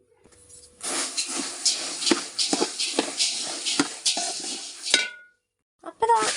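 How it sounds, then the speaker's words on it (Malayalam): Dry coriander seeds with curry leaves rattle and scrape in a pan as they are roasted for sambar, a steady rustling hiss with spatula taps, pausing briefly near the end. "സാമ്പാർക്കുള്ള മല്ലിക്ക് കറിവേപ്പില മാത്രം ഇട്ട് വറുത്ത് കൊടുത്താൽ മതി"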